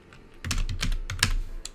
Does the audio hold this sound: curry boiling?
no